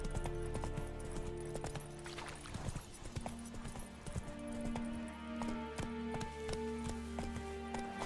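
Horse hooves clip-clop at a steady gallop in the video game The Witcher 3, rhythmic thudding strides carried over a soft musical backdrop throughout.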